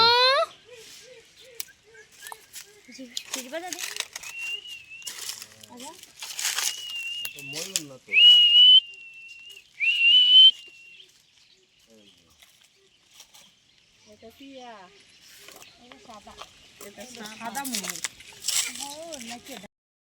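A cockatoo whistles and calls in bursts of rising, falling and held tones, close by, while people talk around it.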